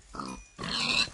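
A Minecraft pig gives two short grunting oinks, close and clear, with faint game background sound.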